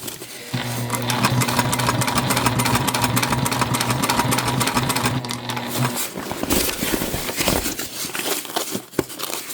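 A Juki TL2 sewing machine stitches a drawstring backpack in a loud, steady run of rapid mechanical chatter for several seconds, then stops, leaving softer handling and rustling of the fabric.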